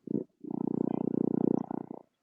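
A cat purrs close up and loud, a short burst followed by a longer steady rhythmic purr with clear pulsing breaths, alone without talk.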